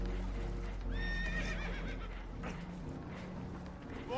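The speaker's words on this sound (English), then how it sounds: "Horses are spooked, and we're taking on water." Spooked horses whinny loudly on a boat in the video game Red Dead Redemption 2, with rapid hoof clatter over a constant low rumble of water and engine noise.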